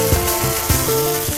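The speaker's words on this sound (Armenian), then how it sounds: "Լավ տաք շիկացած թավայի վրա ավելացնում եմ ձիթայուղ եւ տապակում եմ ցլիկի միսը" Beef tenderloin frying in olive oil on a very hot grill pan, giving a close, steady sizzle broken by several short scraping or pressing knocks at fairly regular intervals.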